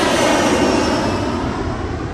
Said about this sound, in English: Embraer 175 to Newark, Jazz 884.